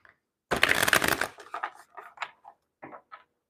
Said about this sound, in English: Let's go ahead and shuffle it the opposite way.